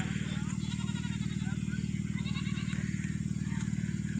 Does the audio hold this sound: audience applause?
no